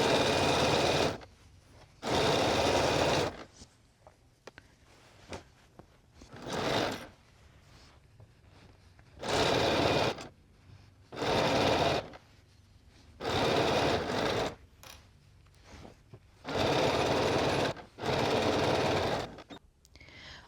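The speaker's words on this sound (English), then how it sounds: "once you have sewn all the way around the perimeter of your sweatshirt" A sewing machine stitches jersey fabric around the edge of a sweatshirt in short loud bursts, about eight runs separated by quiet pauses for adjusting the fabric and pins.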